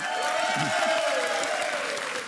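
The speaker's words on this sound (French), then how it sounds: "On vous applaudit et on applaudit Damien et Léa" Studio audience applauding on a French television dating show, a steady dense wash of clapping throughout with a sustained tone and faint voices mixed in.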